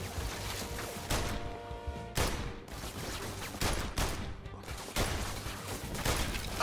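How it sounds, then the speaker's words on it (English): Gunfire in the VR Worlds London Heist video game, with bursts of rapid shots and heavy thumps repeating about every second or so, loud and continuous over a dense background. "Something's shooting at me."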